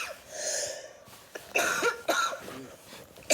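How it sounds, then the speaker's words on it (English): A girl coughs several times in short, harsh bursts at close range, with a throat-clearing quality and no speech. "Oh, please don't cough through another video."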